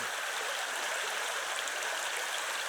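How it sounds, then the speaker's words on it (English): A steady, close rush of flowing water, water dripping and spilling continuously off rock into a creek in a small grotto among pines. "The water dripping off the rock."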